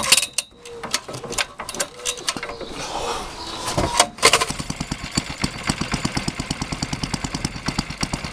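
A pull-start cord on the petrol engine of a 5-inch gauge generator locomotive is wound back with repeated ratcheting clicks, first irregular and then settling into a fast steady clatter close by.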